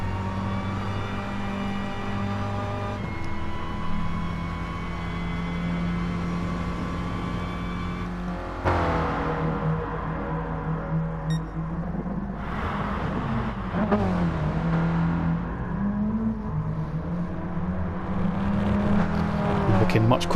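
Mini race cars lapping at Monza in a one-make championship race, with sustained engine drones that rise and fall through gear changes and overlapping cars passing, continuous and fairly loud throughout.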